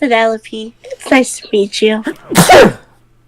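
A single sharp sneeze bursts out right after a woman's calm speech, close and loud, followed by a brief quiet.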